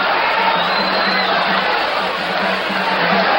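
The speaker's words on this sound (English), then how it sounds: "The crowd picks up" Boxing arena crowd during a late-round flurry in the Arguello vs Escalera fight, a dense, loud, sustained roar of cheering and shouting with no break.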